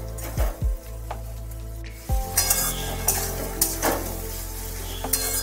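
Home-ground cumin paste, made from whole cumin seeds, fries in a pan with a steady sizzle and repeated scraping stir strokes. Occasional utensil clinks break in near the start and again around two seconds. No voices.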